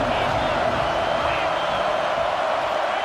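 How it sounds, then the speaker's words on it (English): Big football crowd roaring in Happy Valley on a third down, a steady, dense wall of sustained noise throughout. "Here comes the noise from this big crowd in Happy Valley on third down"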